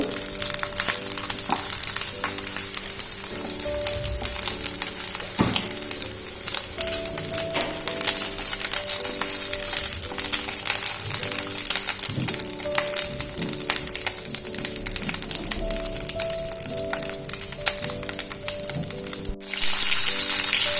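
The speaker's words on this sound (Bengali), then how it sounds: "বেগুনগুলো ভালো করে ফ্রাই করে নেব।" Eggplant pieces frying in oil for doi begun give a steady, dense sizzle throughout, close and fairly loud, with occasional clinks and stirring knocks against the pan.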